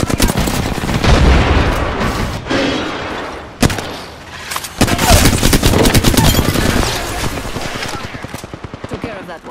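A grenade blast and bursts of automatic gunfire in Apex Legends, loud and close, with a sharp explosion midway amid rattling volleys, a character's voice lines heard over the fighting.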